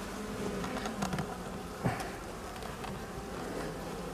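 Honeybees buzzing at an apiary hive while the hive is opened, a continuous close droning hum with a few brief louder passes near the microphone.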